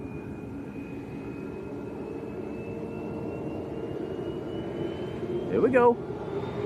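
A TUI passenger jet at Lanzarote Arrecife airport gives a steady, moderately distant engine roar with a slowly rising whine throughout, and a brief voice cuts in near the end.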